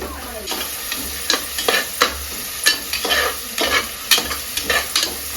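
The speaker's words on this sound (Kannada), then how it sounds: "ಈರುಳ್ಳಿ ಒಂದು ಸ್ವಲ್ಪ ಚೆನ್ನಾಗಿ ಫ್ರೈ ಆಗಿದೆ" Onions frying in coconut oil in a pan, stirred repeatedly with quick scraping strokes over a steady sizzle, close and fairly loud, no talk.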